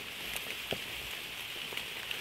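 Rain falls steadily in Nong Mek forest in Thailand, a dense close hiss with scattered sharper drop taps, and no voices.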